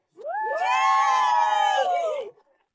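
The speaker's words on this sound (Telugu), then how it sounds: "మనం మొదలు పెట్టక ముందు యు గైస్ నా కోహస్ట్ కోసం చప్పట్లు కొట్టండి." A reality dating show audience greets the co-host with loud whoops and screams, a sudden burst of many voices cheering together for about two seconds before cutting off.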